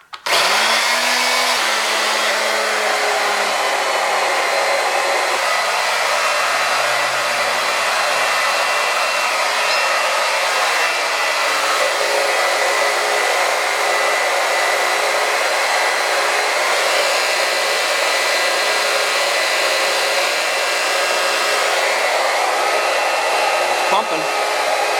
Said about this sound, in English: let me just transfer the oil back in the tank.